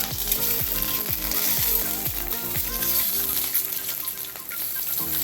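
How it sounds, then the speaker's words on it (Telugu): Eggs frying in hot oil in a pan for an egg tawa masala, a steady bright sizzle running throughout beneath louder rhythmic background music. "ఇట్లా 1 నిమిషంన్నర ఫ్రై చేసుకుందామండి."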